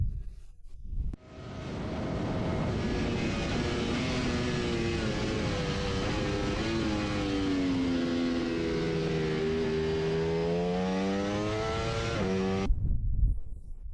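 Ducati Panigale V4R superbike with an Akrapovic exhaust, its engine roaring loud and close for about twelve seconds as it climbs through the revs, with rising and falling pitch sweeps from rapid quick-shifter gear changes.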